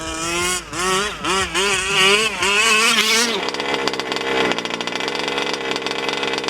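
A gas-powered fifth-scale 30 Degrees North RC short course truck engine revs loudly and close, its pitch rising and falling in repeated bursts before settling into a rough, steady roar.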